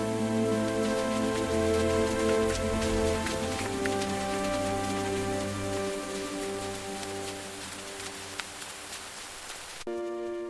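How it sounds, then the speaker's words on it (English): A steady hiss of rain falls in a 2D children's cartoon, under sustained musical tones, ending abruptly near the close. "and it started raining."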